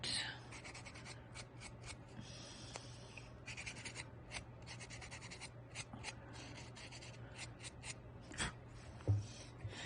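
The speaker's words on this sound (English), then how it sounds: "sand the pencil marks a bit." Sandpaper rubs back and forth over a black and white polymer clay open-backed pendant to remove pencil marks, a close, steady scratchy rasping in short strokes with brief pauses.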